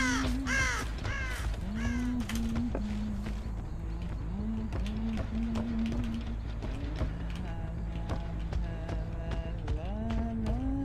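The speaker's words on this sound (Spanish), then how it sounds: "Acá los pájaros son vitales." Crows caw repeatedly in Dead by Daylight, a steady series of harsh calls spread across the clip over a constant game ambience, with someone speaking Spanish intermittently in between.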